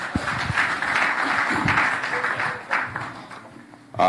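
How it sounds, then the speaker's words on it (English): A church congregation applauding at a general assembly session, a dense, continuous wash of clapping that holds steady for several seconds before tapering off, with some murmuring mixed in. "Clap for them then."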